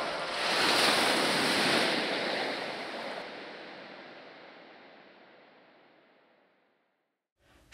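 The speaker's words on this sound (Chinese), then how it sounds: "海浪" A single sea wave washes in with a broad, hissing surge that swells early and then slowly recedes to near silence. A faint thump follows at the very end.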